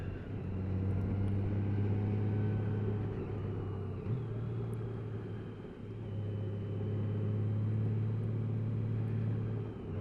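A Honda Gold Wing motorcycle engine drones steadily while riding, a smooth low hum that dips briefly and returns, with no talking over it.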